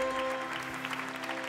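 Applause for the pastor at a church seminar in Cergy, a crowd clapping in a continuous dense patter with a faint sustained musical tone underneath, brief and moderately loud.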